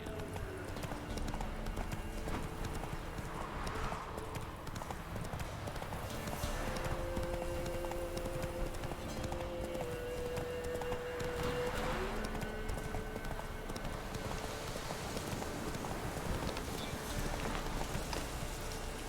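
Hooves of Geralt's horse Roach clip-clop steadily in The Witcher 3, a continuous rhythmic trot over a wet, rain-like ambient bed with faint tonal music.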